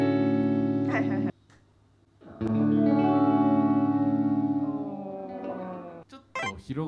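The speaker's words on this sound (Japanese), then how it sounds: "これ実はディレイに近いテープエコーっていうのをモデリングしたデジタルなエフェクターなんですけど" An electric guitar runs through a BOSS Space Echo digital tape-echo emulation with amp reverb switched on, ringing sustained chords with trailing echoes and a wash of reverb, while a person talks near the end.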